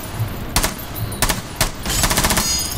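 Bursts of gunfire from the video game Rainbow Six Siege: three sharp, loud shots spaced apart, then a rapid automatic string near the end, close and dominant with no talk over it.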